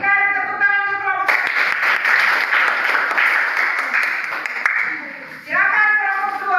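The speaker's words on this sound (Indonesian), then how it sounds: "berikan tepuk tangan untuk kelompok" A classroom audience claps for a student group after its presentation on measles, a loud burst of applause lasting about four seconds between stretches of talk.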